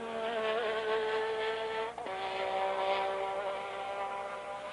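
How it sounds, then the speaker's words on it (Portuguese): A Formula 1 car at the Brazilian Grand Prix roars past with a loud, high, droning engine whine that dips in pitch as it goes by, then keeps screaming steadily at close range. "o ronco do motor quando ele passa"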